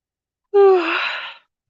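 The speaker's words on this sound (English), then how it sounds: "Sorry, yawn." One close, loud yawn: a voiced opening that falls in pitch, then a breathy exhale that fades out after about a second.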